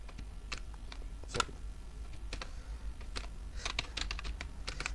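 Close computer keyboard typing while writing Java code for a farming management project, a quick irregular patter of crisp key clicks with small pauses over a low steady hum, no voices.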